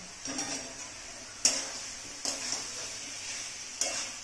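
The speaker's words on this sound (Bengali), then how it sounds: "এবার সবজির সাথে মশলাটা মিক্সড করে দিচ্ছি" A spoon scrapes and stirs half-cooked fried vegetables and spices in a pan over a faint sizzle, with a few sharp metallic clinks spaced irregularly.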